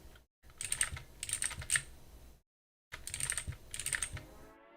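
A loud computer keyboard clacks in quick bursts of typing, crisp and close, with two short silent pauses between runs of keystrokes.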